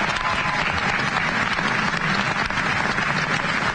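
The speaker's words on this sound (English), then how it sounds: "Please give him a round of applause." A crowd at an election-night victory speech in Pennsylvania applauds for the defeated opponent, a continuous dense roar of clapping that stays level throughout with no voices.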